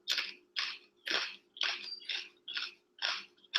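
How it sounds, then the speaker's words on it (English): Crunchy tofu being chewed close to the microphone, about eight sharp, evenly spaced crunching bites in a steady rhythm, with no talking. "it's just really crunchy tofu"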